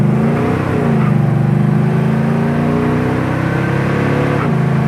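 A 1971 Oldsmobile 442 convertible's V8 drones loudly from inside the car under acceleration, a dense, steady engine roar whose pitch dips at a gear change early on, then climbs gradually before another brief shift near the end.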